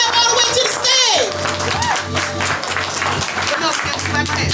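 An event audience claps and cheers for a poet walking to the stage, a dense crowd wash under a loud emcee voice with rising and falling vocal sweeps.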